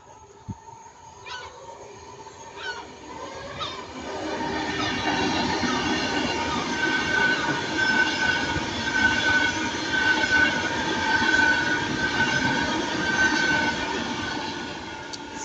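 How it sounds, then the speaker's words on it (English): A Pendolino train passes through Stafford, its rumble swelling after a few seconds into a sustained roar with rail hiss and faint wheel squeal, loud and near with no voices over it. "Pendolino guys passing by."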